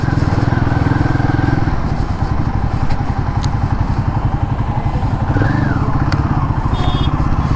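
A Royal Enfield Guerrilla 450 with a short-stroke engine runs steadily and loudly up close, a continuous rough low engine note with a fast pulsing beat throughout and no pauses.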